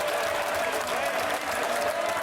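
Steady applause fills the UK House of Commons chamber, many hands clapping continuously with a murmur of voices mixed in.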